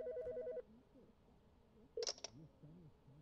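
In the video game Dale & Dawson, a telephone rings with a short electronic trill, then a second brighter burst sounds after a pause, both fairly faint over quiet room tone.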